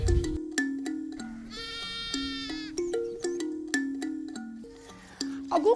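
Sheep at an experimental breeding station in Lages, Santa Catarina, bleating loudly and repeatedly, several calls overlapping in a close flock chorus, with no talking.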